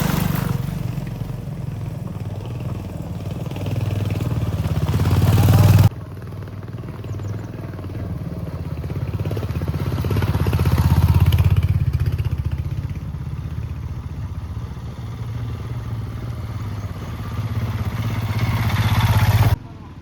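A motorcycle engine runs on a mountain road toward Chewabhanjyang, a steady close rumble with rising and falling revs, heard under people's voices and cut by abrupt breaks.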